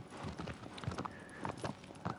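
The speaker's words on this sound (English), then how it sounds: "now we've got to stop the horse, which I've had severe difficulty with" Horse hooves clip-clopping in the video game Shadow of the Colossus, a soft, uneven patter of steps heard under a steady background wash.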